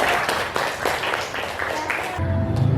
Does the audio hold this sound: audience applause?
yes